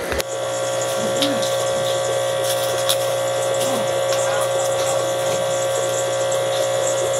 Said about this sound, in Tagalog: Dito guys ay gagamit po tayo na embudo para madali nating mailagay ang ating gagawing ice candy.